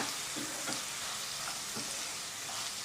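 Vegetables sizzle steadily in hot oil for veg fried rice, with soy sauce just added. A dense, even hiss runs throughout, broken by several soft scraping stirs of the pan, and no one speaks.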